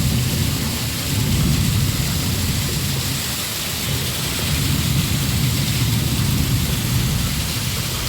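Heavy rain pours steadily in Kolkata, a dense, even hiss with low rumbling undertones and no voices.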